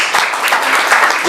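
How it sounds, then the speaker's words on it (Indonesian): A church congregation applauds during a Sunday service, a dense, loud wash of clapping from many hands, close and continuous. "Tepuk tangan."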